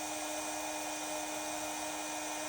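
Heat embossing tool blowing a steady, loud airy hiss with a constant whine while melting white embossing powder on a holiday card, continuous and close throughout with no talking.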